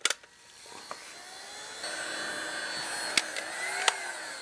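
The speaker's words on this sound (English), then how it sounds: "Now when I bring in my heat gun, it's actually going to shrink the outer body of the female connector around the male" A heat gun blows with a steady whining hiss while shrinking a connector and heat-shrink tubing on a snow blower headlight wire, faint and close, with a few small clicks and knocks.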